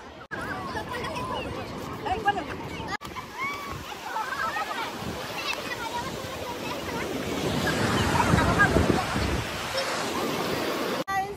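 Sea waves wash and surge at the shore in Paradip, Odisha, during a festival, a continuous roar with wind, swelling louder toward the end while people talk and a crowd murmurs.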